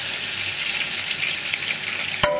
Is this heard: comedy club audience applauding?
no